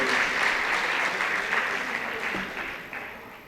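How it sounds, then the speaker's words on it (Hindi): An audience at a poetry gathering applauds loudly to welcome a poet, with dense sustained clapping that gradually fades toward the end. "ज़ोरदार तालियों से राजीव प्रियदर्शी का स्वागत करें आप लोग"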